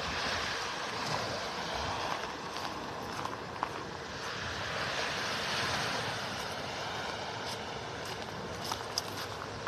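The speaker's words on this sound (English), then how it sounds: "surf is much calmer." Calm, gentle surf washes steadily onto a beach in North Naples, Florida, on a morning with little breeze, a broad continuous wash with a faint aircraft drone overhead.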